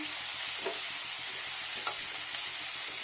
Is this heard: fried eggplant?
yes